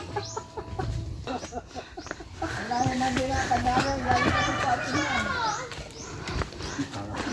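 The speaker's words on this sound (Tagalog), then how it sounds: "Tumatawa na rin yung manok, oh." Chickens cluck at an egg farm in Calauag, Quezon, a steady run of busy clucking that grows louder midway, with children and adults chattering nearby throughout.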